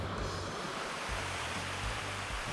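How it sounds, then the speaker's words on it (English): Ocean surf washing against a foggy seacoast, a steady broad rush of waves with low rumbling swells, continuous and fairly loud with no voices. "A little bit of wave action coming in here."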